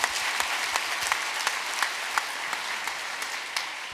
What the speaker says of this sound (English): Another round of applause for the young people that you're teaching